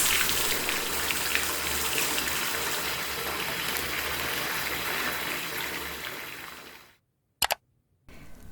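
Water runs steadily into a hotel bathtub, a continuous broadband rush heard close and alone for about seven seconds before cutting off, followed by a brief splash and a faint return of flow.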